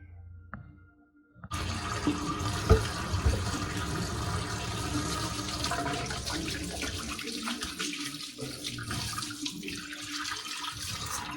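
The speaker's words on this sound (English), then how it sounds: "So now we're gonna run some cold water." A tap turns on after a short quiet moment and cold water gushes steadily into a sink, loud and continuous.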